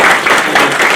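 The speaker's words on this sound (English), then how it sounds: "I would ask for a final round of applause to our" Conference audience at an industry day applauding the speakers, a dense, loud burst of many hands clapping at once for about a second.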